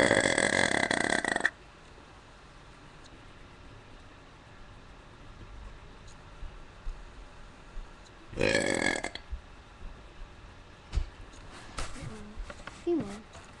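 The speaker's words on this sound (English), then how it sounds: "are really bad burps" Very bad burps: two loud, long belches early on and again midway, with quieter scattered sounds, faint background noise and some sounds in between.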